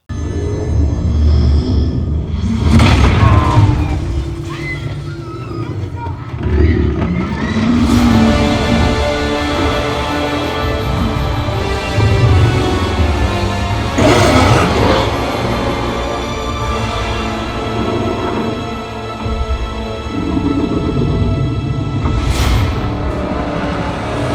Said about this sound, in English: Godzilla on screen or Kong or Mechagodzilla, there's a constant barrage of impressive bass that should rattle anything inside or outside your theater that's not bolted down